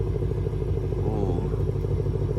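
Ford Mustang S550 with an aftermarket exhaust, heard from outside, idling with a loud, choppy, pulsing low burble and a brief rise in revs, while a voice talks over it.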